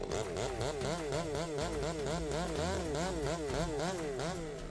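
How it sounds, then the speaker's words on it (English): Stihl MS 462 chainsaw with a 72.2cc engine running at Blidworth Woods while cutting an old-growth tree, a steady loud buzzing whine with a rhythmic rise and fall in pitch throughout, close by and alone. "An old-growth tree with a Stihl MS 462 chainsaw."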